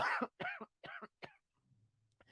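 Four harsh coughs in quick succession, close and fairly loud, followed by a low faint hum and a brief final burst.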